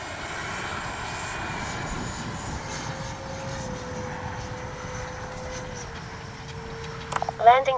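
A Freewing 80mm T-33 Shooting Star RC jet passes by with a steady ducted-fan whine and a rising tone, under wind noise and someone talking nearby, ending with a few sharp clatters.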